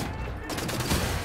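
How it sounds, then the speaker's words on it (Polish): Laser rifle gunfire in Wolfenstein: The New Order, a dense burst of rapid shots over a brief, loud stretch of game noise. "Mam nasz laserowy karabin. I z jego pomocą zniszczymy ten niemiecki świat."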